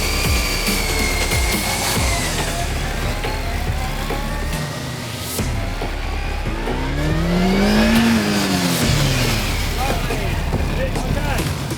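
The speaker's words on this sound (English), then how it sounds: "You've got a nice smooth transition between coming off the throttle from accelerating and onto the brake" Motorcycle accelerating and then braking for stoppie practice, its engine loud and close with rising and falling revs across the whole stretch, overlaid by wind rush and a voice talking over it.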